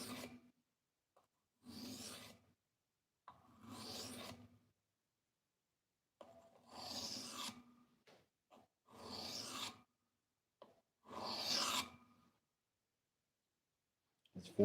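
A blade is worked on a 400 grit whetstone, giving repeated rasping strokes in six or so bursts of a second or two each, close and fairly loud, separated by short silences.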